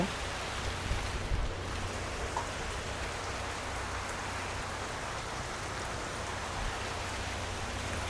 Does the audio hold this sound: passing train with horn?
no